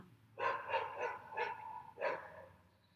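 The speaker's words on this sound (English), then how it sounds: "that's my dog." A dog barks five times in a quick, slightly uneven series, moderately near but fairly soft, with a brief pause before the last bark and no talking over it.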